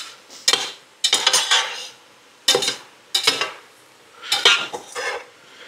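Beef and pork chili with onion and garlic stirred in a pot, a spoon scraping and knocking against the sides in several distinct bursts with quiet pauses between, close and unaccompanied by talking.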